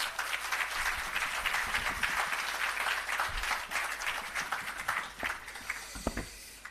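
Audience applause at an outdoor commissioning ceremony for an irrigation system in Jamaica, steady dense clapping from a crowd that fades out toward the end, with a few louder individual claps standing out.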